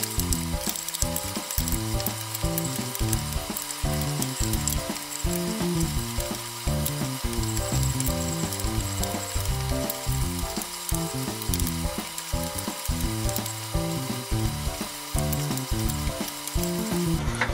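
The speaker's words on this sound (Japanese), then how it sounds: "火を弱火でじっくり混ぜてください。" A mayonnaise and salt coating being stirred slowly in a pan over low heat, with a dense, continuous rhythmic scraping and rattling over a soft, constant sizzle.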